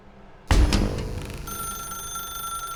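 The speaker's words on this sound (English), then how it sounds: "Now pick up the phone." A telephone rings in the video game The Stanley Parable, a sudden loud bell-like ring that starts abruptly and then holds as a sustained ringing tone, alone with no speech.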